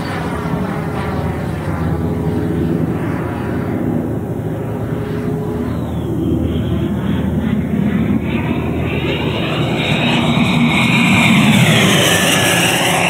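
An 11.3 kg EDF Odyssey model jet with a JETFAN-120 PRO ducted fan flies past, its loud continuous whine swelling and shifting in pitch as it climbs.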